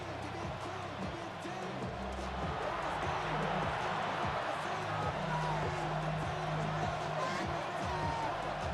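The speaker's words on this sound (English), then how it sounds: "This crowd turning up the decibel level." A simulated stadium crowd in a Madden 26 NFL game between the Cincinnati Bengals and Pittsburgh Steelers roars in a dense, sustained wash of cheering and noise, with faint thumping underneath, continuous for several seconds.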